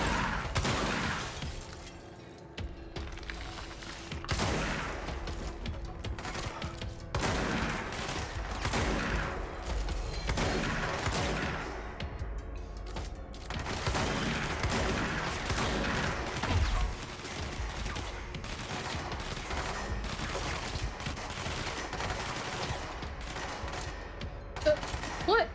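Sustained gunfire in the video game Control, with rapid volleys and sharp bursts recurring across the whole stretch, loud and busy with a brief lull near the start; a voice speaks faintly underneath at times.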